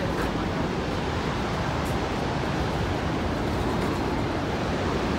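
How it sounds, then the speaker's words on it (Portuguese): Iguazu Falls roars as a dense, unbroken wash of water noise, loud and constant from start to end, with no voices. "Aquela queda d'água ali, ó."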